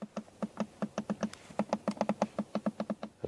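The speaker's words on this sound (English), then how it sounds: "And then you have USB-C chargers and a proper rear climate unit. Oh, with nice clicking sounds" Buttons on the rear climate control unit of a Mazda CX-80 are pressed repeatedly, about twenty crisp, close plastic clicks in quick uneven bursts with a short pause partway through, heard on their own in a quiet cabin.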